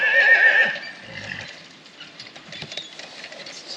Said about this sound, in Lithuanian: Tiesiog arklys.